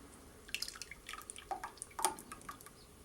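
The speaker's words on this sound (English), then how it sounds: "pour this liquid back into the measuring cup because it has a pour spout" Blueberry liquid for dog gummy treats trickles back into a measuring cup in a quiet, close series of irregular drips and splashes. No voices are heard.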